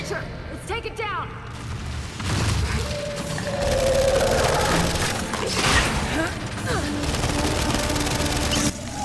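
Gunfire aimed at a Snatcher in Gears 5, sustained rapid bursts and mechanical clatter of game weapons with loud battle noise, while players talk over the shooting.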